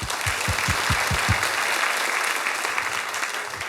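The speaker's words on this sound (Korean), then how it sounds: "박수로 한번 축하하겠습니다." A church congregation breaks into full applause during a Sunday afternoon worship service, a thick continuous patter of clapping with a low hum of voices beneath it.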